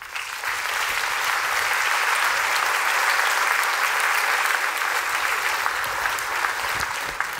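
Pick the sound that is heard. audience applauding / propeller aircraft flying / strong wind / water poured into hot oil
audience applauding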